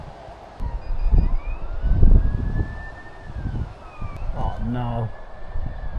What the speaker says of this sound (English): Oh, I can hear sirens.